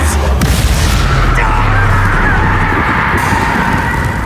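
A Confringo fire-blast spell in Hogwarts Legacy, a heavy continuous booming rumble with dense crackle, loud and close throughout amid game combat.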